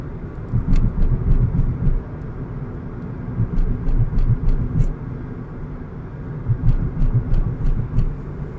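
Steady low rumble of a car driving on a road toward Abu Dhabi, with a constant engine and tyre drone and recurring light rattling clicks from inside the cabin, no talking.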